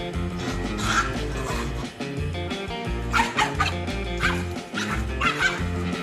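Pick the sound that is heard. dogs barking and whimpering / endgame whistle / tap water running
dogs barking and whimpering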